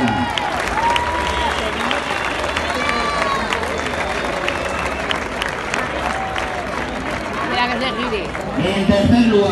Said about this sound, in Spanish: ese fuerte aplauso para la cuadrilla en voladores